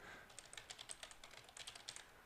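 A short burst of close keyboard typing, quick irregular key clicks over a faint background hiss.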